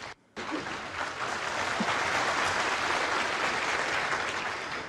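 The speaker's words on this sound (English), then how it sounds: "Safety appreciated by the crowd." A snooker crowd breaks into sustained, even applause after a brief silence, close and full through to the end.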